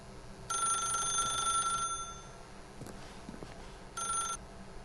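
Telephone in The Stanley Parable rings with a bright electronic bell, one long ring of about a second and a half, a pause, then a shorter second ring starting. The ringing is close and loud, with faint background noise between the rings.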